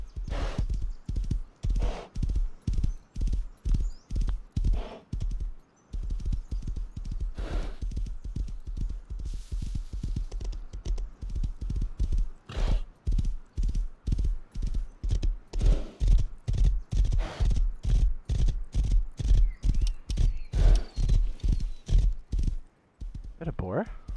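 Horse hooves clip-clopping during riding in the console version of the video game Rust. Loud, evenly spaced hoof strikes repeat steadily for about 24 seconds, with only brief pauses.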